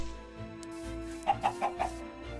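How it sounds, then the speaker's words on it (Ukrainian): A Minecraft chicken clucks in a quick run of four short, bright clucks over a steady background hum, fairly close, with no speech. "Де курка? Ні, її тут нема. Вона десь десь десь куткудахає"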